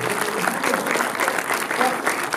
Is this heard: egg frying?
no